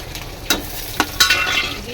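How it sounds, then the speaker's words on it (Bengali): A bay leaf, cumin and a dried red chilli crackle in hot oil for potato and pointed gourd curry, a close, loud sizzle punctuated by three sharp spattering bursts and utensil scrapes. "ফোনিতে দিয়ে দেবো একটা তেজপাতা"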